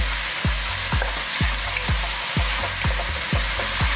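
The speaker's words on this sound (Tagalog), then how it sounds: "So again, haluin lang po natin." Sweet and sour chicken with peppers, made with spicy banana ketchup, is stirred in a hot pan, a steady loud sizzle cut by regular scraping strokes about every half second, close up, no voices.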